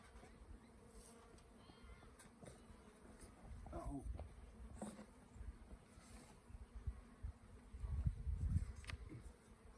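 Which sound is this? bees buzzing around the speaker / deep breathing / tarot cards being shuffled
bees buzzing around the speaker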